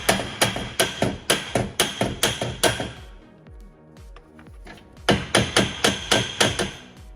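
A hammer taps a nut onto the steering shaft of a John Deere lawn tractor: a quick run of sharp metallic knocks, a short pause with lighter clinks, then another rapid burst of close, loud taps.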